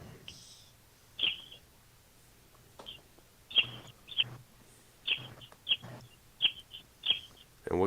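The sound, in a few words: birds chirping, sounding like through a wind tunnel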